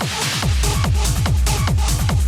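Energetic electronic music track with a pounding kick drum, shuffling hi-hats and short synth stabs repeating in a tight, continuous groove.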